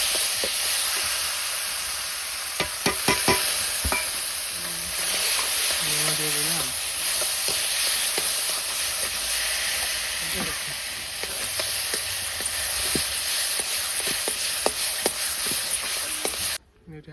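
Mashed potato and brinjal with onion and garlic frying in a pan, giving a continuous loud hiss of sizzling oil, broken by sharp stirring clicks and scrapes, with a faint voice briefly in the background.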